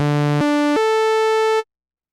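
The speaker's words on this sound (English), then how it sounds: "So over here, we've got our TB303 saw." An emulated TB303 saw synth layer in Omnisphere plays three stepped notes, each a bright buzzy sawtooth tone rising in pitch, before cutting off cleanly into silence.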